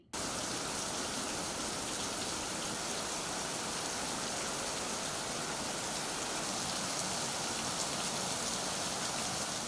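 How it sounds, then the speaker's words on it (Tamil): Heavy monsoon rain pours down in Kerala, a dense, steady roar of downpour that fills the whole stretch without letup and with no voices. "கேரளாவில் வெளுக்கும் கனமழை"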